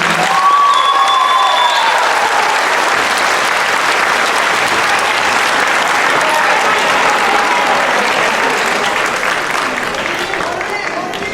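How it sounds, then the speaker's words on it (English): A large graduation audience applauds steadily for a guest speaker at a high school ceremony, dense sustained clapping with some cheering that holds loud throughout and tapers slightly at the end. "Please welcome and give a round of applause to the one and only Miss Michelle Fujie."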